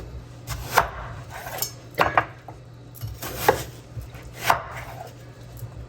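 A kitchen knife chops an onion on a cutting board, four or five sharp, separate knocks spaced about a second apart, close and fairly quiet, with a low steady hum behind and no talking.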